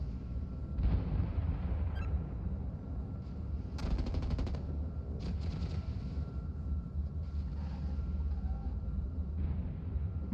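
Aircraft cannon fire in the combat flight game Nuclear Option, a few short rapid bursts cutting through a steady low engine roar, moderately distant and without talk.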